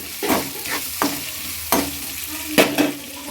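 Scraping stirs of chilli paneer ingredients sizzling in a pan, several distinct spoon strokes over a steady frying hiss, close and clear with no talking.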